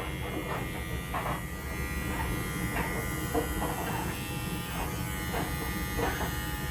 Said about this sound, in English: is now going to have his paw pads trimmed out and his sanitary trim done